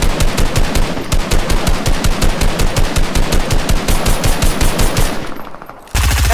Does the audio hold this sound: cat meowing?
no